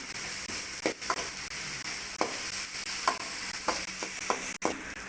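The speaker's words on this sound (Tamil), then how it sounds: "வெங்காயத்தை போட்டு நல்லா வதக்கிக்கிறோம்மா" Onions sautéing in a pan for samba rava kichadi, a steady soft sizzle broken by repeated scrapes and clinks of a stirring spoon, close and alone with no talk.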